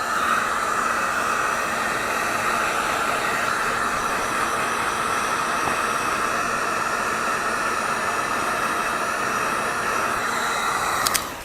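A handheld heat tool gives craft material another short zap to start melting it, a steady loud hiss of blowing air running without a break, ending with a brief click as it shuts off.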